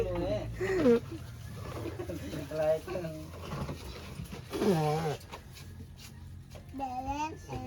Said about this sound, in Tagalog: Tignan mo dun yung kalapati ni Papa